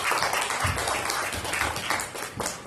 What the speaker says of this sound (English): Give him a hand clap of cheers.